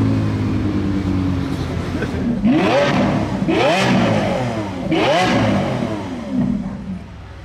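Supercars rev their engines at a Modball Rally stage, three loud rising-and-falling revs in succession over a steady engine rumble with crowd noise behind.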